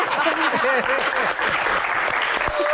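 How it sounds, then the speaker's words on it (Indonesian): Applause from a studio audience on a comedy Q&A show, a continuous dense clatter of hands with overlapping voices and laughter on top throughout. "Tepuk tangan."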